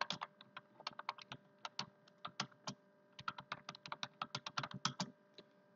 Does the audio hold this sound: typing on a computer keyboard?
yes